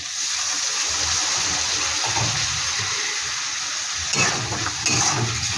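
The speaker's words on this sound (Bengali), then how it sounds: "আর একটু লাগবে একটু সামান্য একটু জল দিয়ে দিচ্ছি" Water poured in a small amount into a pan of Bengali amudi fish curry with spices, giving a steady wash of hissing, gushing sound throughout, with a few brighter splashes near the end.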